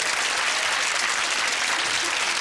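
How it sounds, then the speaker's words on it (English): Studio audience applause on a 1997 quiz show, a brief burst of steady, dense clapping that holds at an even level throughout. "Give them a round of applause there"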